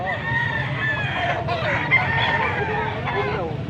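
Young roosters (stags) crow repeatedly at a busy fowl market in Pampanga, overlapping calls ringing out over constant clucking and a murmur of people talking.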